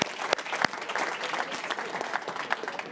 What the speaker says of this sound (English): Let's give another big round of applause for our selected solvers